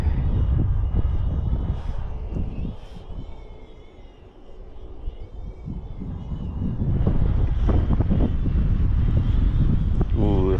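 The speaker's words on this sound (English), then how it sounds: "it's too windy" Strong, gusty wind buffets the microphone outdoors where a DJI Flip drone is being flown, a loud low rumble that swells and eases across the stretch, with occasional speech breaking through.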